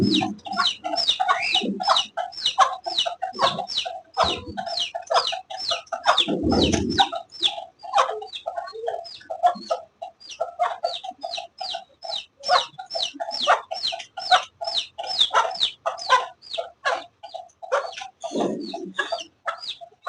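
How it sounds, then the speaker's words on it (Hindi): A hen clucks steadily and repeatedly, a fast run of short, nasal calls close by, with occasional louder squawks mixed in and no talking. "ये मुर्गी परेशान है, चूजों के पास कैसे जाऊं।"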